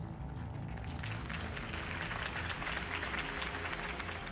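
Applause from a crowd at a Harvey Dent campaign rally in the Telltale Batman video game, a faint, steady spread of clapping mixed with low game music and ambience.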